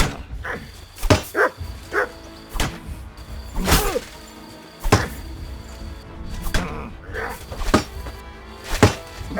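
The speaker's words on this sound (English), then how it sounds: "Watch out! He's got a dog!" Dog barks in Kingdom Come: Deliverance II, several sharp, loud barks spread irregularly across the scene, mixed with thumping combat hits and a voice now and then.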